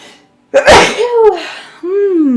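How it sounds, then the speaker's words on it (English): A single sharp sneeze bursts out close and loud, followed by a voice speaking briefly. "I have to sneeze, excuse me."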